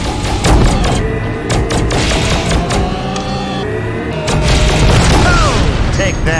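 A large spaceship gun in Tachyon: The Fringe fires repeated heavy booms and thuds amid loud space-combat effects, with bursts spread unevenly through the clip.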